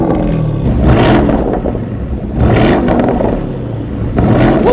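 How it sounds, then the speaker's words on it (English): A Porsche Cayenne Turbo Electric SUV accelerates hard in three loud, close surges of whirring, rumbling drive noise, each one swelling and then easing back. "Hypercar launches in a daily usable Porsche"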